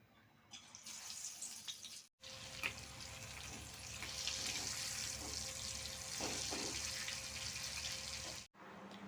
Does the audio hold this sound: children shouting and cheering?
no